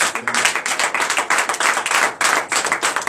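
A church congregation at a morning prayer service claps together in rapid, continuous applause, loud and close, with no voices over it.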